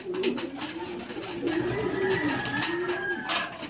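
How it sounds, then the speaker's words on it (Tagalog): Pigeons cooing close by at a midday corn feeding, soft repeated throaty coos layered over one another with faint background noise and no talk. "Ganyan lang sila mga kalapatids tuwing tanghali."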